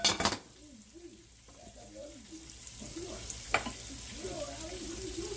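Fish fries in a pan with a soft, continuous sizzle and crackle, a sharp clatter at the start and a brief clink partway through, heard close and fairly quiet.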